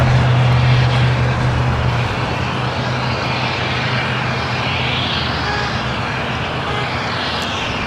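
An airliner arriving on the south side of Los Angeles International Airport roars close and loud, a low droning hum easing after a couple of seconds into a steady broad rumble with no speech.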